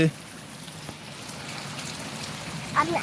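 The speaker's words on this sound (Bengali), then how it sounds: "আমাদের এলাকাবাসী তলাইয়ে গেছে বৃষ্টিতে" Heavy rain pours steadily across a flooded neighbourhood, a dense continuous hiss with a soft thump and faint distant voices near the end.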